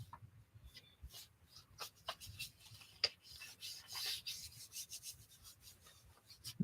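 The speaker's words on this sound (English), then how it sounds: "Rub my dirty brayer all over it." An inked brayer is rolled and rubbed over paper, giving soft repeated rasping strokes with short scratchy bursts, close and fairly quiet, with no talking.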